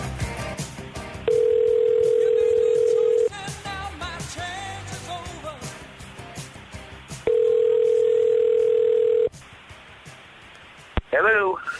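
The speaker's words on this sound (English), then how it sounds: "Careful you don't break the phone when you punch the numbers too hard." A steady landline telephone dial tone hums for a couple of seconds, breaks off into keypad beeps and talk, then returns as a second long tone, with voices chatting loudly throughout and a brief chirp near the end.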